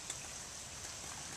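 Light rain falling after a hail storm in North Caldwell, New Jersey, a soft, faint, steady patter on surfaces, quiet and continuous for a brief moment.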